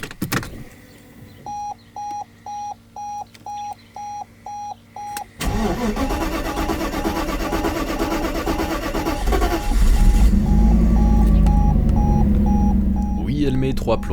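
A Mercedes SL500 cranks slowly against a steady beeping warning chime, then catches and settles into a running idle that swells louder near the end, heard close up with a voice talking over it.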